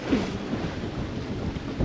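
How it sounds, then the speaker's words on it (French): Waves roll against the shore along a coastal stretch between La Coruña and Saint-Brieuc while wind buffets the microphone, a steady low rumble and wash with no voices. "le spectacle des vagues, c'est bien?"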